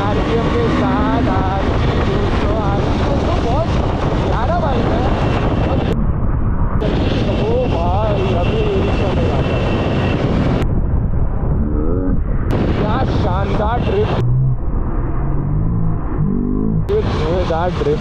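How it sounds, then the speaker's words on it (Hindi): A car drifts at full RPM with tyre smoke: a loud, continuous high-revving engine roar with wavering pitch fills the whole stretch, briefly dropping out several times, with a voice commenting over it. "ये धुएंदार ड्रिफ्ट के साथ एक और प्यारा सा ड्रिफ्ट।"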